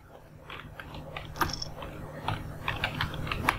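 Code being typed on a computer keyboard, a run of light, irregular key clicks with a few louder taps, close and fairly quiet with no one talking.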